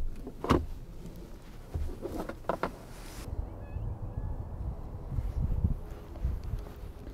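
Rear door handle of an electric BMW being pulled open, heard as a couple of faint, sharp clicks followed by a soft mechanical whir, close up in a quiet setting.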